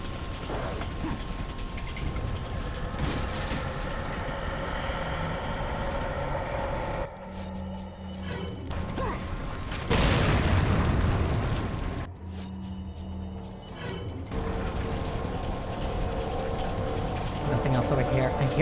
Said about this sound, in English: I hear somebody with a chain, which means they have to be above me